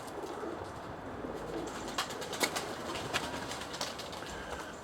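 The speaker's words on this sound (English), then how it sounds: "there's a few of my birds again. They're nice birds this year." Pigeons or doves cooing outdoors, a few soft repeated coos standing out over steady background noise and a faint distant rumble.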